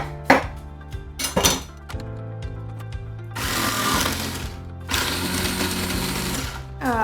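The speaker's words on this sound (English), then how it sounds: "I'm gonna flip my disc over so I can shred some carrots." A food processor with its disc flipped to the shredding side grinds carrots. Clattering knocks from handling the bowl come first, then two loud sustained whirring bursts of shredding.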